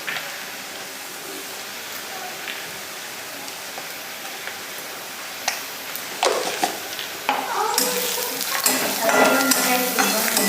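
Cumin, mustard seeds and turmeric sizzle in a hot frying pan over already browned onion, a soft steady crackle that swells into louder, denser spitting and popping toward the end, with no one talking.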